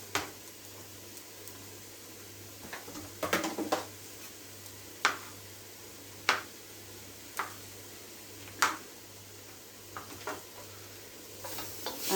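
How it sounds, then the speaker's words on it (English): Stock, garlic, peppers and mushrooms sizzle in a pan, a low steady fry broken by a series of distinct scraping knocks as a utensil stirs them at irregular intervals, close and fairly quiet. "And just give it a stir so that the heat moves around the pan and gets everywhere."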